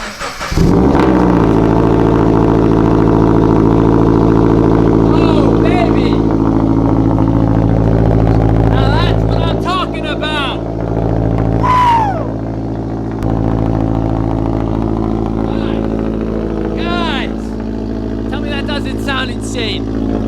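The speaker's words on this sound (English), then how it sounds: "Cold start on the BRZ, 25-degree weather, let's get it." A Subaru BRZ engine cold-starts in 25-degree freezing weather, catching with a loud surge and then settling into a steady, droning high idle, while voices exclaim over it.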